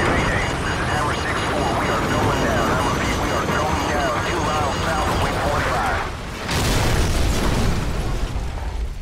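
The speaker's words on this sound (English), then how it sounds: "Incoming missile!" In Call of Duty 4, an incoming missile hits with a loud, close explosion, followed by rumbling chaos and a second heavy burst, while a voice talks over the blasts.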